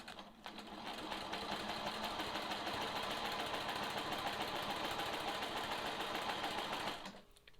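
A sewing machine runs steadily for several seconds while free-motion quilting along a long quilting ruler, a close, even mechanical whir that starts up, holds constant and stops near the end, with no talk.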